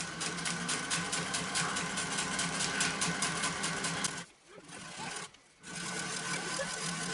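An old Singer sewing machine stitches steadily through heavy denim in a loud, even run, then stops twice briefly before picking up again.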